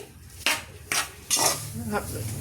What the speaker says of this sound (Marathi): असा हा रवा छानपैकी सुगंध येईपर्यंत खरपूस भाजून घ्यावे.